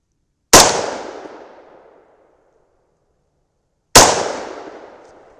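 Two sharp 300 Blackout rifle shots firing powder-coated bullets, each a loud close crack with a decaying tail, spaced about three seconds apart with silence between.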